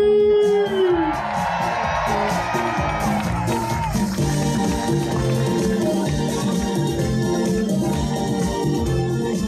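A crowd in Châtillon-sur-Seine cheering for a relay runner, with shouts and whoops over music and a loudspeaker voice, lively and sustained at moderate distance.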